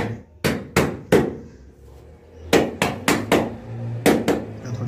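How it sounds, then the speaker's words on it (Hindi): Floor tile being tapped level during laying, sharp knocks in quick clusters of three or four, close and loud, with short pauses between groups. "सी ऊंची टाइल है उसको बराबर करें थोड़ा सा ठोक कर।"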